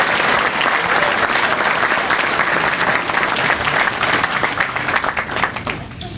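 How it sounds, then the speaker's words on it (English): A banquet crowd at a sports hall of fame induction gives sustained, loud applause for sponsors, with dense clapping from many hands for about six seconds before it thins out at the end. "A round of applause for Larry and all of our sponsors."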